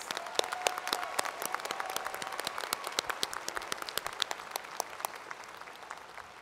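A commencement audience applauds honors graduates, a dense, fairly distant wash of many hands clapping that holds steady and then slowly thins toward the end.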